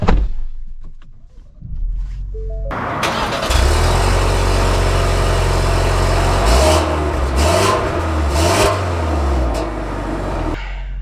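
A 2025 Ford Explorer ST-Line engine starts after a short quiet, then runs loud and steady at a deep idle with a few revs as the SUV sets off.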